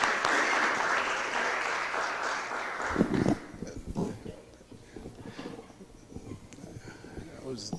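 Applause from the audience at a city Board of Aldermen meeting, a dense burst of clapping that lasts about three seconds, then breaks off and gives way to scattered claps and room murmur.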